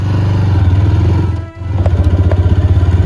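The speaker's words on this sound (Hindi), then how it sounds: "गाड़ी जो है चलाने में काफ़ी स्मूथली चल रही है" A TVS Raider 125 motorcycle rumbles loudly and close while riding, its engine note pulsing evenly, briefly dipping in the middle before returning to a steady drone.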